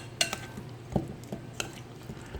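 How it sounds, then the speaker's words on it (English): Raw chicken pieces are swished through seasoning with metal tongs, giving soft scraping rustles and a few light clicks of metal against the dish, close and quiet, no voices. "I'm just going to swish it around a little."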